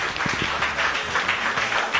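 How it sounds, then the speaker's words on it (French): Short round of audience clapping for a musician on a French-language TV show, a few distinct nearby claps at the start blending into a scattered crowd patter with faint voices beneath. "on l'applaudit comme il le mérite"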